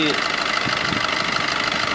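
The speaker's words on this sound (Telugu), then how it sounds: "ఇంజన్ బీటింగ్ కూడా బాగుంది" A 2018 Maruti Dzire VDI automatic diesel engine idles in a steady, even mid-pitched rumble with a faint rhythmic knock, close and loud, while a person talks over it.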